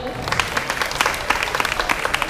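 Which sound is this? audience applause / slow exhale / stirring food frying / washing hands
audience applause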